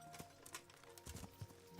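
Horse hooves clip-clop on the ground in the video game Kingdom Come: Deliverance, a few quick irregular footfalls heard faintly and close, with no speech.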